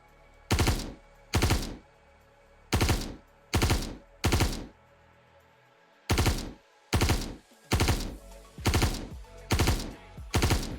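Loud, sharp weapon shots fired from Orc-MkX armor in VRChat, about eleven cracks in uneven pairs and singles with short gaps between them.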